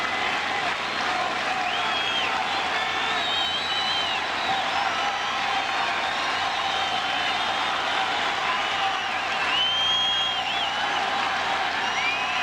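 Large Yankee Stadium baseball crowd applauds in a steady, even patter for a full dozen seconds, with faint whistles and cheers rising now and then from the stands.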